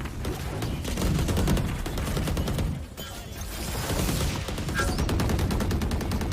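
Rapid automatic gunfire in a Valorant-style tactical shooter match, dense continuous bursts of shots with a brief pause midway, loud and close, no talking over it.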